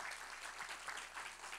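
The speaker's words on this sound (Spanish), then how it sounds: "Yo quiero un aplauso para Wilfredo Lozano." Faint, distant audience applause at a concert and poetry book presentation, a brief continuous patter of clapping heard alone.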